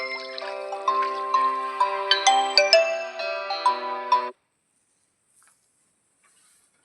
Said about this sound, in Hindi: क्या हुआ था कि फोन जो था उसमें अलार्म बज चुका था